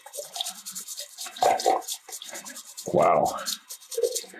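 A brush scrubs the filthy PCB of a graphics card being washed, giving wet rubbing strokes in uneven bursts, close and fairly loud, with a brief spoken exclamation.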